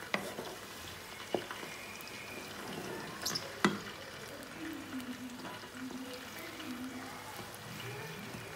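Chopped onion frying in a pan, a steady soft sizzle with occasional stirring scrapes and a couple of sharp clinks, fairly quiet throughout with no voices.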